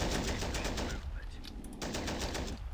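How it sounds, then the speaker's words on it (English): Sustained machine gun fire in the war strategy game Men of War: Assault Squad 2, dense bursts of rapid shots filling the clip with a brief lull in the middle before the firing resumes, loud and close. "I'll fire this machine gun here."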